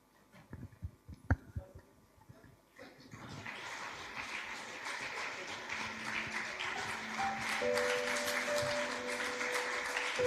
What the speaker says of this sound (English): I request all of you to please give us a huge round of applause.